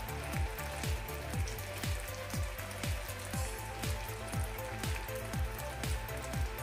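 Sugar syrup boils in a pan, giving a steady, low bubbling crackle with a regular popping rhythm that holds constant throughout and has no voices over it.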